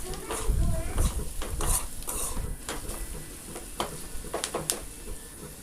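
A jackfruit bhaji with salt and turmeric is sautéed in a pan, a close sizzle under repeated scraping and stirring strokes of a spoon against the metal, with a few clinks.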